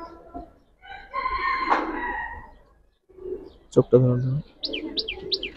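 Giribaj and colored pigeons in a Bangladeshi pigeon collection, with bird calls and crowing-like notes, chirps and a few short cooing bursts close by, separated by pauses, while someone speaks briefly.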